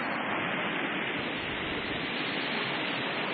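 Creek water flows steadily beside a woodland campsite, a constant broad rushing hiss with no breaks and no voices.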